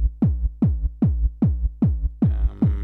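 Six steady kick hits from a Korg Volca Drum, each deep boom trailed by a delayed second-layer thump shaped by its release setting, with a brighter hi-hat-like hiss joining the last few beats.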